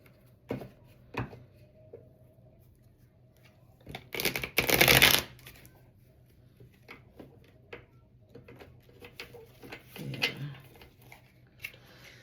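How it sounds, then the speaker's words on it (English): Tarot cards shuffled in a quick riffling burst that stands out between quieter handling taps and small clicks, close and fairly loud for about a second before settling back to soft rustles. "I'm going to shuffle this one more time."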